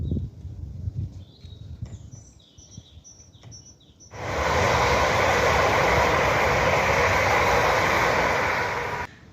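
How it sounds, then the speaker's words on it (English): A train passes on the main line beside a large London park, its loud, steady rumble and rush breaking in suddenly after faint birdsong and holding strong to the end. "except when a train passes through on the main line"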